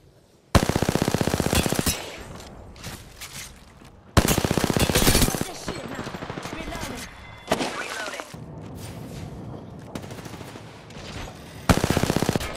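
Gunfire in a video game firefight: loud bursts of rapid automatic fire, separated by quieter stretches with scattered single shots and impacts, while a voice talks briefly.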